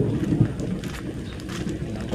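A boat engine runs steadily at close range, a continuous low rumble with a rough texture that holds level and never fades, with no speech over it.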